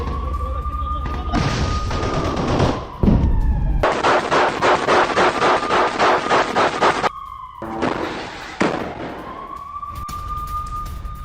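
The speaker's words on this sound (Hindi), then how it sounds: "अल कसाम ब्रिगेड ने IDF पर जबरदस्त गोलीबारी की।" AK-47 rifle and rocket launcher fire in Gaza combat comes through as fast, evenly spaced bursts of automatic shots, with loud wailing sirens before and after.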